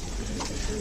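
A short, low cooing from a pigeon, heard close over a dense background of rustling and noise.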